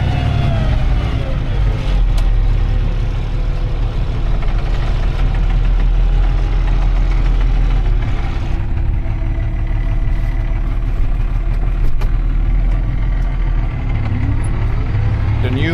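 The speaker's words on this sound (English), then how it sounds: "we usually plow with this tractor" A tractor engine runs while plowing a field in cold weather, a loud, close, steady diesel drone with a low knocking pulse that holds unchanged throughout.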